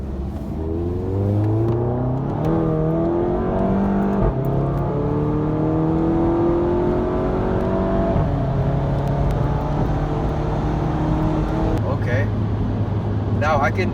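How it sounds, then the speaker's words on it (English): A VW Golf GTI MK7 with a DSG gearbox in sport mode accelerates hard, engine note rising in steps through quick gear changes, loud and steady inside the cabin, with a voice talking over it. "Let's try S now, you know, sport on the DSG. Let's see how it feels."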